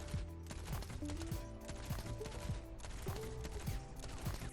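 In the Overwatch video game, Baptiste fires short repeated bursts and lobs healing grenades in a steady rhythm, quiet and layered over busy game sounds with tonal effect chimes.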